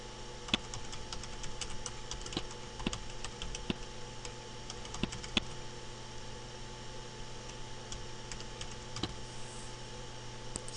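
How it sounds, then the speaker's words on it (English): Faint, sparse keystrokes tap on a computer keyboard as text is typed into a care plan entry, with isolated clicks scattered over a quiet background hum and no speech. "you can type in anything you want"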